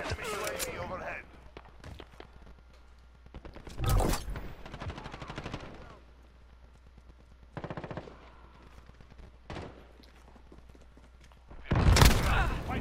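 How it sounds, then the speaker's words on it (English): Enemy footsteps in Modern Warfare multiplayer, heard as a quick, close run of crisp rhythmic steps between bursts of loud gunfire, with players talking at times. "his footsteps way too loud."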